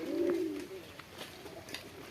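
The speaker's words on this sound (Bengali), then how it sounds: "এই কবুতর" A pigeon gives one low, throaty coo near the start, close and clear, then quieter background with a few faint clicks.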